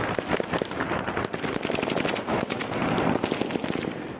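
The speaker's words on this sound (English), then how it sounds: "Footage shared on social media showed explosions which were reported to be stun grenades." Stun grenades go off in rapid bursts of sharp bangs and crackles from a distance, dense and continuous, like a volley of small explosions.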